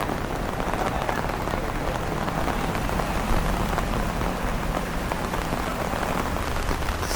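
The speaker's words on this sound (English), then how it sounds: "Summer rain here in Kyoto" Steady summer rain in Kyoto pattering on surfaces all around, a dense even wash of drops with no voices.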